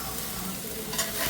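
Prawns roasting dry in a pan with no gravy, a steady soft sizzle and faint stirring scrapes throughout, with no voices.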